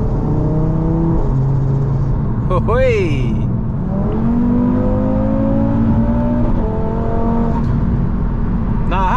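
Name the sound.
Audi RS3 520hp engine accelerating, intake noise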